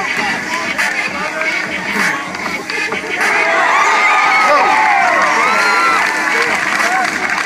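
A crowd at a FireFit firefighter race cheers and whoops loudly and continuously, the roar building in the second half, with an announcer's voice under the noise.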